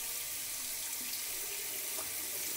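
A tap runs lukewarm water into a sink, a steady, even stream of hissing flow without pause or voices.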